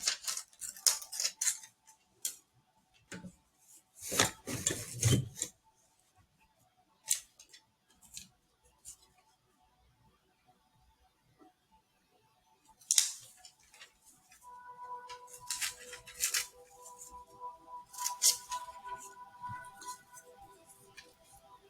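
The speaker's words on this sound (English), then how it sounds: "So I'm just cutting this whole piece of paper up." Scissors snipping through magazine paper during collage work, crisp cuts arriving in short bursts separated by pauses, close and fairly quiet, with faint clinks of tools set down nearby.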